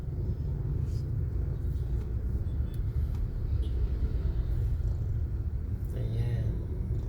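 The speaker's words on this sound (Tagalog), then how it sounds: "talagang matraffic tong Martinez Avenue" Heavy traffic crawls along Martinez Avenue in Mandaluyong, heard as a constant low rumble of car and vehicle engines at close to medium range, with a few faint brief noises above it.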